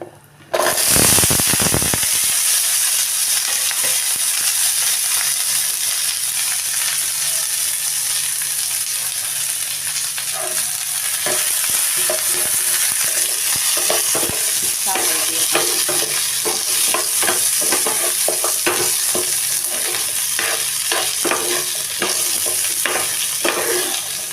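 Onion and garlic frying in oil with dried red chillies, a loud, continuous sizzle with scraping stirring strokes throughout, opening with a sudden hiss as the ingredients hit the pan.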